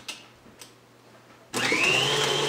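An electric mixer beats cream cheese frosting on high: after a quiet stretch with a couple of soft knocks, the motor kicks in suddenly with a loud, whirring, rising whine that continues to the end.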